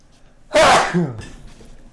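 A single sharp sneeze bursts out loudly, followed by a brief voiced tail, then quiet.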